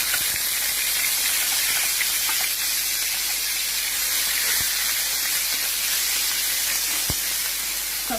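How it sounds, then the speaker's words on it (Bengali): Onion paste dropped into hot oil, giving a steady, loud, close hiss and sizzle that holds evenly throughout with a few faint pops. "এবার দিয়ে দেব পেঁয়াজ বাটা"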